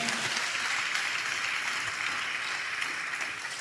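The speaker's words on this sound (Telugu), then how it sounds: "చప్పట్లు కొడుతూ స్తోత్రాలు చెప్దాం" A church congregation claps in praise together, a dense, steady wash of applause held at even loudness from start to finish with no break.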